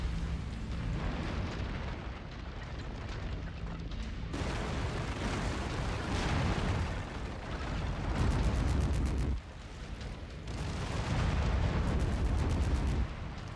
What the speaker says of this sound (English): So we're switching over to our pulse lasers, at least for the time being